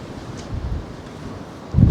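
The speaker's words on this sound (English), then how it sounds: "this wind is really getting up tonight" Strong gusting wind buffets the microphone along Blackpool promenade at night, a steady low roar that surges around the middle and swells loudly in a sharp gust at the end, with no talking.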